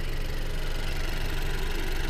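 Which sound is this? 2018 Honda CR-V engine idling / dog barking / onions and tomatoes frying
2018 Honda CR-V engine idling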